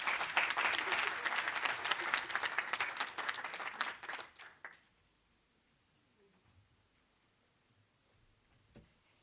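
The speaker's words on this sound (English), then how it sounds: "Can we have another big round of applause for Professor?" A crowd at a university professorial inauguration claps enthusiastically for several seconds, then the applause quickly tapers off into near silence with a faint thump near the end.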